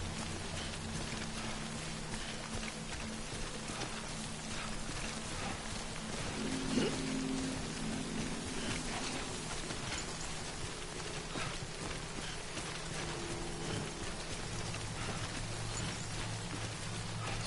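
Timefall rain in the video game Death Stranding falls in a steady, even hiss of raindrops that holds unchanged throughout at moderate loudness.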